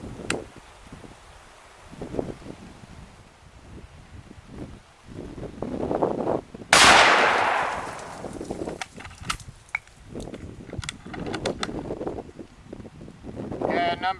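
A single loud crack of a 7.92x57 rifle firing a 150 grain Speer hand load bursts out midway and decays, set among wind noise and a voice talking before and after.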